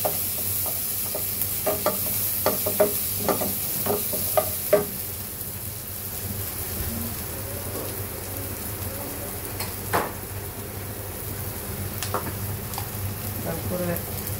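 A few fenugreek seeds sizzle in hot oil for a rohu fish curry, with a steady light frying crackle and scattered sharp pops at the start, and quiet stirring after that.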